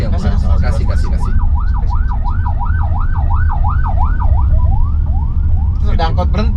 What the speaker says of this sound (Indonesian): Dari tadi tuh Ada kayak ambulans, gitu.